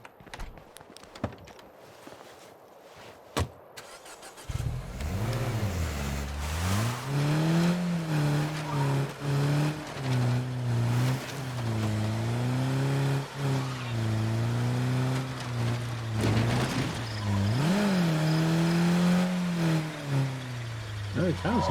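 A battered car in State of Decay 2 runs roughly after a sudden start, its engine droning and wavering unevenly in pitch as it drives, loud and continuous with clicks and knocks.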